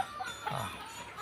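At feeding time, backyard chickens near their coop let out soft, faint clucks against a quiet background.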